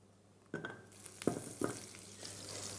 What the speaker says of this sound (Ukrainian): Спочатку на пательню вершкове масло.